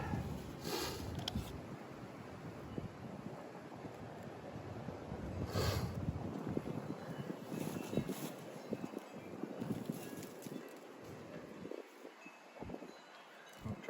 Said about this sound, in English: I'll try to protect it from the wind.